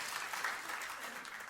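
Church congregation clapping during a revival service, a faint, distant patter of many hands that stays soft and steady through the brief stretch.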